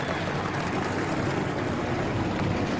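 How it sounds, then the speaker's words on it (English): Several race car engines run together at Richmond in a racing video game, a steady, dense roar filling the whole clip with no pauses or talk. "And the engines have fired up."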